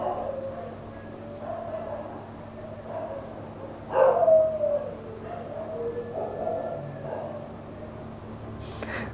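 Dogs howl and bark somewhere in the distance, with faint drawn-out wailing tones over a low steady hum and one louder burst midway.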